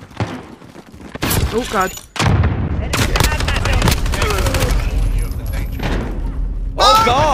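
Rapid gunfire from Call of Duty gameplay rattles in dense bursts and bangs, loud and close, with a player's exclaiming voice briefly over the shooting.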